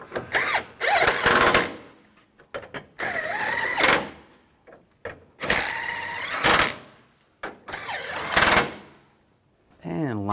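Cordless power drill driving screws into a 2007-2013 Chevrolet Silverado during headlight wiring harness work, several short, loud whirring bursts up close, separated by brief pauses and clicks.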